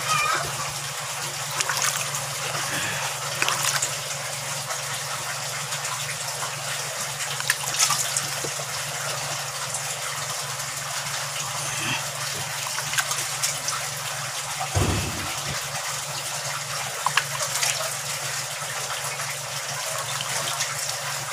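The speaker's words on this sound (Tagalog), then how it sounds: "Kuha po tayo ng tubig para di gaanong mainit." Water poured over a freshly heat-shaped PVC pipe for a DIY koi pond fence, a steady broad gushing wash running continuously with small splashy variations, fairly close, no talk over it.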